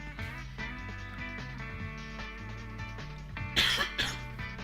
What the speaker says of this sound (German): Der Husten lässt mich einfach nicht in Ruhe im Moment.